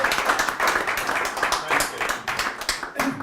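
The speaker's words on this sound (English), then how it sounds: "give Tim and the team a bit of a round of applause" An audience at a conference-style event claps for Tim and the team, a moderate burst of applause with individual claps audible and a voice speaking over it.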